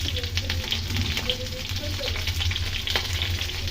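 Pieces of pointed gourd (potol) fry in hot oil with a steady, dense sizzle that carries on throughout, close by, with a faint low hum beneath it.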